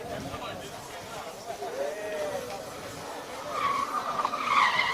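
A Formula SAE race car skids its tyres around a skid pan, with squealing tyre noise and a rising engine note, heard at a distance under a commentator's voice.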